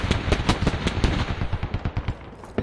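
Rapid gunfire in the military shooter Squad, a steady burst of sharp automatic shots at a fast rhythm, moderately loud and somewhat distant, with no voices.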